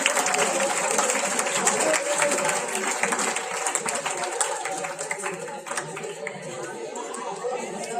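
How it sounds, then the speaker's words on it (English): Students and guests at a school prize-giving ceremony applaud the winners, a broad clapping crowd mixed with chatter and murmuring voices throughout, moderately loud and sustained. "Kindly give a loud round of applause to our winners."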